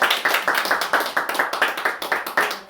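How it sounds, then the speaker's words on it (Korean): A church congregation claps together in thanks to God, a brisk run of about a dozen sharp, evenly spaced claps close by with no talking. "우리 박수를 하나님께 올리겠습니다"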